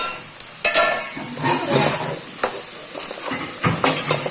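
Masala being stirred into mushroom curry in a pan, with a steady sizzle under repeated scraping strokes of a spoon against the pan, close and moderately loud, no talking.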